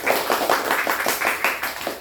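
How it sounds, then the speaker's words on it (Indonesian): A class of young children clapping together in a classroom, a quick burst of roughly rhythmic hand claps that stays close and moderately loud. "Beri tepuk tangan anak-anak."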